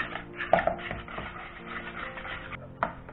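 Cream and pepper stirred together in a bowl for a hot oyster sauce, a soft rubbing scrape with a couple of sharper clinks of utensil against the dish, close and quiet.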